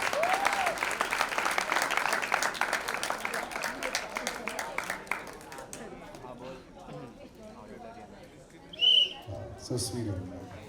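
Loud audience clapping at a live event with a film actress fills the first half, then fades out as voices and crowd murmur take over, with a short high squeal near the end.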